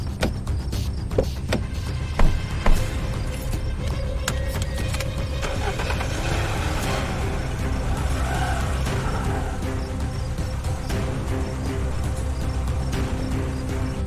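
A getaway vehicle carrying bandits pulls away, its steady engine drone and road rumble running continuously at moderate loudness after a couple of sharp thumps near the start.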